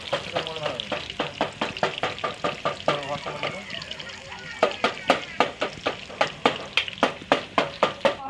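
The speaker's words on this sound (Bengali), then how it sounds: "আর এখন আমাদের মাংস রান্না হচ্ছে" Meat cooking in a pot at a picnic, with a repeated rhythmic scraping and stirring over steady sizzling that grows louder in the second half, and some speech in the background.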